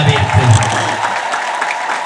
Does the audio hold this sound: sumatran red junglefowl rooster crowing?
no